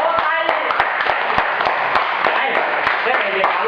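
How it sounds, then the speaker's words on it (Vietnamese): A small group applauds at a New Year gathering, with a steady patter of close, crisp hand claps and occasional sharper single claps, under ongoing chatter and voices. "Xin giới thiệu thành công vỗ"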